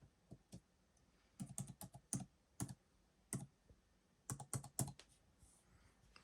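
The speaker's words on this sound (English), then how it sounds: "I'm gonna type in the password for the internet." A Wi-Fi password is typed on a keyboard in short, irregular clusters of close, crisp key clicks separated by brief pauses, quiet and alone.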